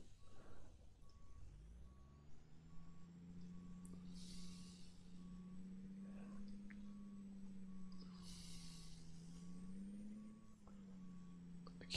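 A big rig in American Truck Simulator on a snowy, frosty day idles with a steady diesel drone while a reversing beep repeats at a regular pace. Brief hissing bursts of air from the parking brake rise above the engine.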